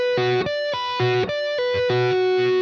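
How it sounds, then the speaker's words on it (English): A distorted electric guitar plays a slow triplet pull-off blues lick, clear repeated note groups in a steady rhythm, alone and close, ending abruptly. "This little triplet pull-off thing, right?"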